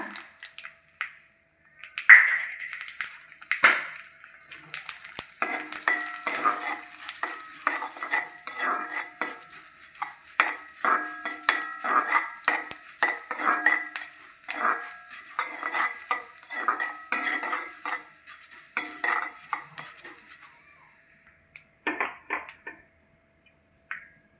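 Urad dal goes into a pan and is stirred with a metal spoon for Kerala-style upma, giving close, rapid clinks and scrapes against the pan with a faint sizzle, steady for about twenty seconds before tapering off.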